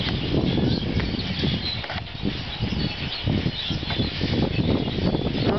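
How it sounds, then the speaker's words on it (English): A large flock of birds makes a loud, continuous wash of chatter and fluttering that fills the whole span with no pause, dense and close. "It's the birds."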